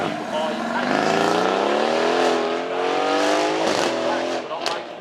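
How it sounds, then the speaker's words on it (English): A BMW i8 sports car drives on track at Beaulieu Supercar Weekend, its engine note rising steadily and loudly throughout, with a commentator talking over it the whole time. "Next we have our BMW i8"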